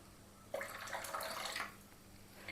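Water is poured into a pot of green spinach soup in a short, splashing stream that lasts about a second, quiet and close, with near silence before and after.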